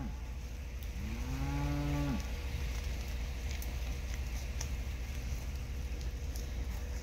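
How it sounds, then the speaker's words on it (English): Cattle on a homestead with fresh road work, one loud, drawn-out moo close by with a rising then falling pitch, then steady outdoor noise and faint wind afterward. "Curiosity never killed the cows."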